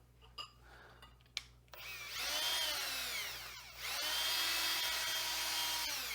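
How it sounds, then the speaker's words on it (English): Power drill spins a LintEater rotary brush inside a dryer vent hose, starting after a few knocks with a whining motor and scraping brush in two sustained bursts, close and without talk. "And that'll ream out your vent hose real well and get it all clean."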